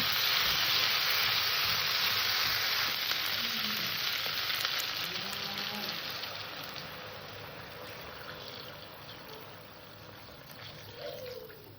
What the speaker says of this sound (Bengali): এবার এখানে আমি দিয়ে দেবো জল